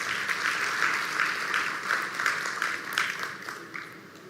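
Audience applause at a business summit in South Africa, steady and moderately loud for about four seconds, with dense overlapping clapping that swells and fades slightly.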